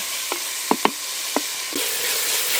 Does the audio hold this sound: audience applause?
no